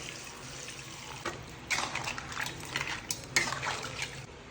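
One and a half litres of water pouring into a metal cooking pot of crab gravy, a splashing rush with a few clinks of the pot, close and fairly quiet.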